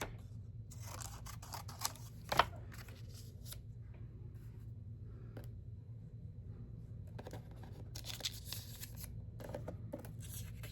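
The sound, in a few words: cutting small pieces of photo paper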